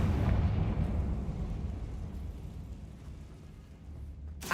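Confringo blasting spell going off in the Hogwarts Legacy video game inside a tomb, a loud rumbling boom that fades over several seconds, with a sharp pop at the end.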